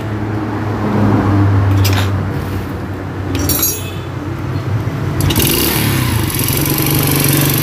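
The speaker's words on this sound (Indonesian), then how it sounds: "Oke, sekarang motor kita nyalakan kembali." A Yamaha Vega RR motorcycle engine idles nearby with a rattling, clattering knock. Bursts of revving come and go over about seven seconds, and no one speaks.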